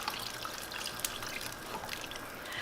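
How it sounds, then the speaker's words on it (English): Three cups of water poured into a soup pot for taco soup, a steady splashing trickle running on without a break, close and fairly loud with no talk over it. "you're going to add your 3 cups of water"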